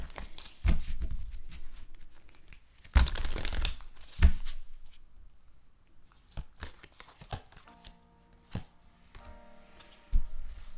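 Tarot cards are shuffled and drawn by hand in sharp papery bursts of riffling and snapping, some loud and close, separated by quieter gaps with soft handling noises.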